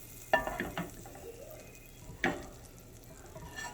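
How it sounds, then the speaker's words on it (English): Butter melting in a skillet, giving a soft, steady sizzle with a few brief sharp crackles and pops near the start and midway, fairly quiet and with no talking. "I have just added butter to the skillet, and I'm gonna let it melt some."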